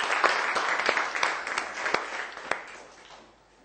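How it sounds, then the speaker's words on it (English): Students in a maths classroom clap for a classmate, a brisk burst of hand claps with distinct sharp slaps that thins out and fades by the end. "Give you a big clap."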